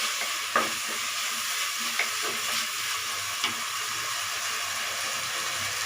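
Sunberries sautéing in a pan for tamarind gravy, giving a steady, bright sizzle with a few soft scrapes of stirring. No voices over the frying.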